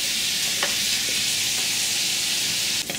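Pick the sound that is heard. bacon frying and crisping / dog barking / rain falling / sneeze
bacon frying and crisping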